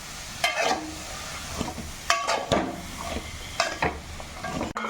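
Cut cauliflower pieces sizzle in a hot pan while being stirred, with several distinct scraping, tossing strokes at irregular intervals over a steady frying hiss, close and moderately loud.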